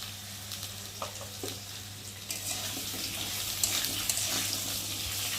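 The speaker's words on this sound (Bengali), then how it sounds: "আলুটা একটু ভালো করে লাল লাল করে একটু ভেজে নেব" Quiet, steady sizzling of potatoes frying in oil with green chillies for a pabda fish dish, a continuous crackling hiss with occasional soft stirring clicks and no talking.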